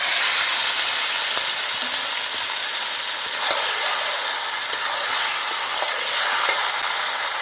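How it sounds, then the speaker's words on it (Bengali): Meat dropped into hot oil with bay leaf, cumin, spices and dried chilli sizzles in a pan, a steady loud hiss with faint crackles throughout and no voices. "ফুটনটা হয়ে গেছে এখন মাংসটা ছেড়ে দেবো"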